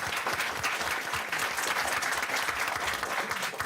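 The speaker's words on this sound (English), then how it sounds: "Give them a round of applause." Audience at a school board meeting gives steady, dense applause for students being recognized, a continuous wash of many hands clapping from across the room, with no speech over it.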